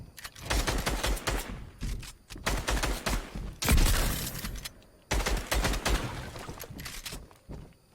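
A charge shotgun in a video game fires in dense bursts of rapid, loud blasts, separated by brief pauses between volleys, close and dominant with no speech over it.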